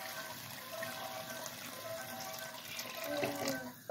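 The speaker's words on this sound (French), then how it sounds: "je vais venir rajouter environ 1 litre d'eau tiède" About a litre of lukewarm water is poured into a pot of Jerusalem artichokes, a faint, steady splashing stream that runs without a break.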